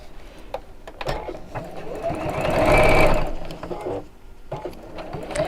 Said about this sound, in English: Let's sew that from the same side that I've just sewn so I can see where I've been.